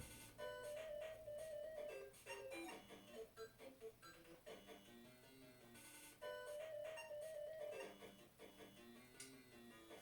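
Chiptune Game Boy game music from Dr. Mario, played on a SNES Super Game Boy, with short electronic beeps and bright synthesized tones repeating in a looping melody, fairly faint.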